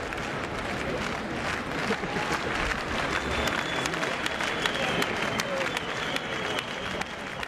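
A crowd marching for peace breaks into a burst of applause outdoors, a fairly soft, continuous crackle of many hands clapping at a distance that carries on throughout.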